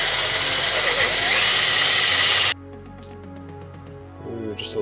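A power drill runs steadily and loudly while drilling out an airsoft revolver cylinder, then cuts off abruptly, leaving faint clicks and handling noise.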